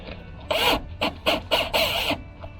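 Galvanized bolts with washers are run down against a seal during truck camper jack maintenance, heard as five rasping, grinding bursts of varying length separated by short pauses, fairly close and with no talking.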